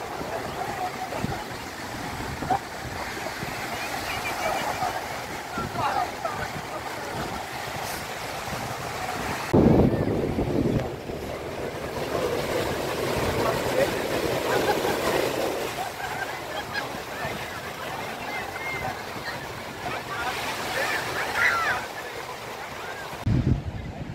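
Sea surf at Marina Beach in Chennai, beside the port, makes a steady broadband wash with wind buffeting the microphone and faint crowd chatter beneath, a brief louder surge midway through.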